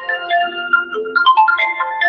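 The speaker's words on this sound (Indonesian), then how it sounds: "ini ada telepon tapi nggak tahu cara mematikannya" Phone ringtone chiming a bright, melodic electronic tune in quick successive notes, loud and close, with no talk over it.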